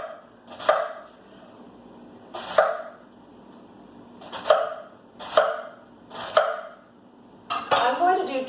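A knife chops food on a cutting board while coleslaw is made, with about six sharp, evenly spaced knocks and a quicker clatter of cuts at the end, close and clear.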